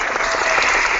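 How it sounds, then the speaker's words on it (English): Applause from a group at a casual nerd-culture chat session, steady dense clapping filling the whole moment at close range, with no pauses or voices on top. "My own applause."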